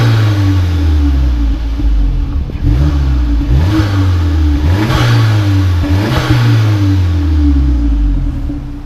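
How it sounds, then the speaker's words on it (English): A modified VW Polo GTI turbocharged engine revs repeatedly, with air intake and turbo inlet noise from under the bonnet, close and loud, rising and falling in several strong pulls over a deep rumble. "I noticed there was some good sound coming out from under the bonnet, so this must be the air intake and the turbo inlet"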